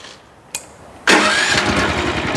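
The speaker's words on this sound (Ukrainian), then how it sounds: "Забів мотоблочок, заслонку відкрив." A Motor Sich MB-16E walk-behind tractor engine starts after a short click, catching with a sudden loud burst and settling into a steady, close, mid-pitched running drone.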